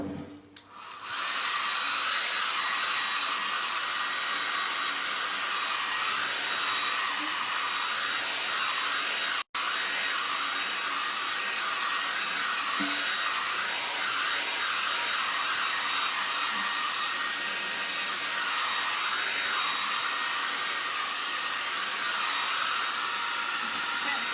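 A hair dryer blows steadily on chalk paste spread over a watering can, a loud, constant whirring drone that runs almost the whole time, broken by one brief cut partway through.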